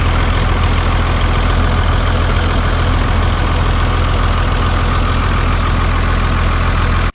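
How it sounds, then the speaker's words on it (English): A 2002 second-generation Cummins diesel in a 2500 pickup with about 240,000 miles, idling steadily: a loud, close, even rumble with no voices, cut off abruptly at the end. "The engine has zero blow by."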